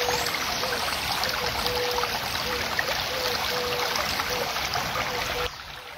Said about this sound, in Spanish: como música de fondo se escucha el río según pasa por las